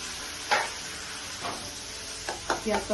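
Onion paste frying with fenugreek and garlic in a pan for methi katla, a soft steady sizzle broken by a few brief stirring scrapes, close and moderately quiet with no speech.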